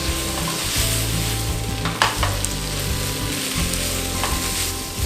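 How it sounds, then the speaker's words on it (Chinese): Vegan lamb stir-fried over high heat with soy sauce, soy paste, chili bean paste, sha cha sauce, pepper and five-spice, a steady close sizzle broken by scraping spatula strokes against the wok. "然后一样就把它大火炒香"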